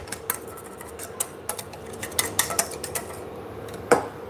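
A whisk or spoon mixes egg custard in a saucepan over medium heat, with a rapid series of light metallic clinks and taps against the pan, irregular and close, growing busier before one sharper knock near the end.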